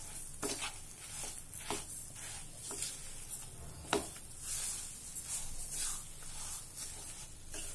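A chenna dal mixture with added sugar is stirred in a pan, making faint, irregular scraping strokes with a soft sizzling hiss underneath.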